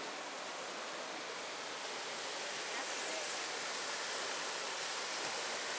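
The Little Carp River in the Porcupine Mountains rushes past in a loud, steady wash of flowing water that holds level throughout, close by, with no voices.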